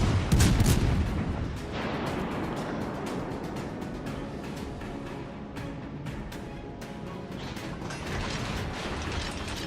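Guns of the French cruiser La Galissonniere booming in a World of Warships naval battle, heavy salvos at the start followed by clicking, ratcheting mechanical turret sounds.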